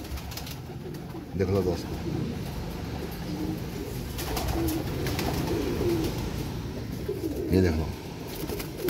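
Tiger Breed pigeons coo softly and repeatedly in a loft while someone talks over them throughout.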